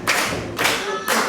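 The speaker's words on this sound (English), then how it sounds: "They've got him clapping and going" Crowd at a wrestling house show clapping in unison, three loud bursts of applause in steady rhythm, close and dense, with no talking.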